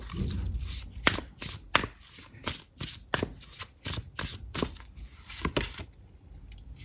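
Tarot cards are shuffled in a quick series of sharp, close riffling flicks and snaps, about a dozen in a fairly even rhythm, with no talking.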